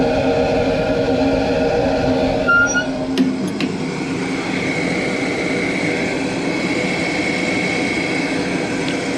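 A homemade waste-oil heater burner in a garage roars steadily with a spinning cyclone flame, a loud, constant rushing drone that stays even throughout with no voices.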